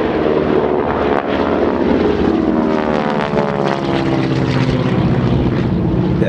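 A Harvard propeller trainer aircraft makes a low pass at an air show, its loud, rasping engine and airscrew drone filling the air continuously and sweeping past close by.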